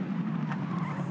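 A Formula 4 race car at the 2016 Symmons Plains race locks its front brakes and skids, giving a steady, loud engine and tyre roar through the whole moment with no voices.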